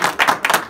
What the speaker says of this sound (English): all the people, please clap your hands to Kuwait and Pakistan.